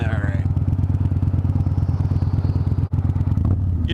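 A motorcycle carrying a rider and a passenger rumbles steadily and loudly at close range as it rides along, with a brief dip in the engine drone partway through.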